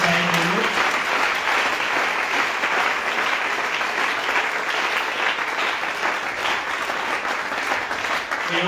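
A church congregation at an international retreat breaks into sustained, loud applause that stays dense and even from start to finish, with a faint crowd murmur beneath the clapping.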